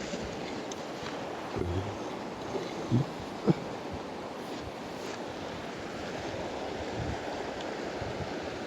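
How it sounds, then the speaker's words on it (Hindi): Strong wind gusts across an open outdoor camping spot on a small island, a constant loud roar and rush buffeting the microphone, with a few faint knocks. "बहुत ज़्यादा हवा भी चल रहा है"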